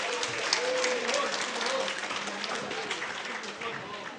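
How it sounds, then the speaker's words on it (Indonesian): An audience at an event introducing candidates claps steadily, a dense wash of applause that runs unbroken throughout, with a faint voice carrying over it. "Tepuk tangan."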